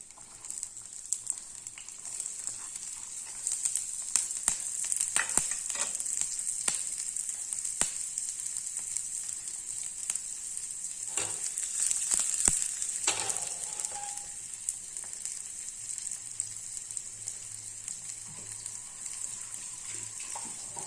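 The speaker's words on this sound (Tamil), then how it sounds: "கொஞ்சம் கடுகு போட்டுடலாம் இந்த வெங்காயத்தை இதில் சேர்த்துடலாம்" Mustard seeds and onion sizzle in hot oil in a small tempering ladle, a constant bright hiss heard up close with occasional clicks and taps of stirring, and no voices.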